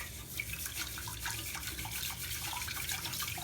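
Basmati rice being washed by hand in a bowl of water, a steady close splashing and swirling of water and grains, with no talking.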